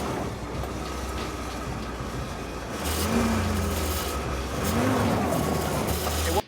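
A 1942 Willys Ford GWP jeep pushing through deep off-road terrain in two-wheel drive, its engine droning steadily and then rising into a louder rumble with rattles and splashy churning as it presses on.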